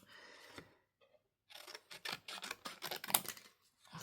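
Scissors snip through a stack of tags, a close quiet run of crisp cutting clicks and rustles that follows a short pause, with no talking.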